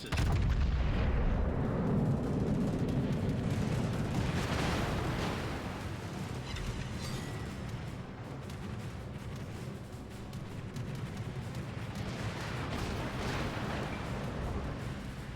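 Yamato battleship guns firing in the World of Warships naval game, heavy booming artillery rolling into a long rumbling roar that slowly fades, distant-sounding and sustained.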